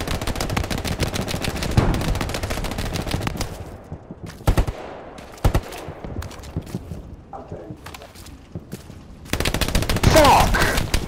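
Heavy machine gun fire rattles in a video game battle near tanks, with dense sustained bursts early, then scattered sharp shots and gaps before another loud sustained volley at the end.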